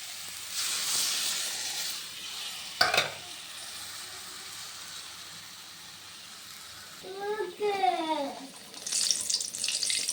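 Water poured into sautéing masala in a pan for a puri dish, a short splash and sizzle burst among steady frying hiss, with kitchen clatter and a brief voiced sound near the end.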